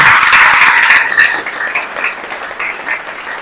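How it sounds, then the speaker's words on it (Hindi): An audience at a business seminar applauds, a loud dense burst of clapping that gradually thins and fades over a few seconds. "तो इन खातिर ताली थोड़ी ही बजानी चाहिए कि बहुत नहीं बजानी चाहिए"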